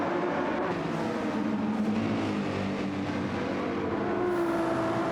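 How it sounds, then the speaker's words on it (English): Race cars in the Ultimate Racing League at Blue Moon Bay pack together through a series of turns, with loud, continuous engine roar and overlapping revving as the field passes close by. "Look at this crowd of cars coming through here."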